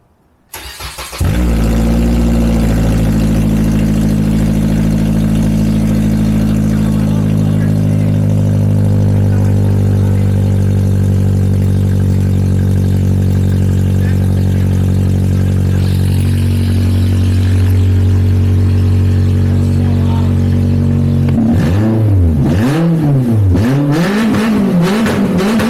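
A Lexus GS430 V8 with its exhaust cut open idles with a deep, loud, raw drone for about twenty seconds, then revs up and down several times in quick, roaring swells.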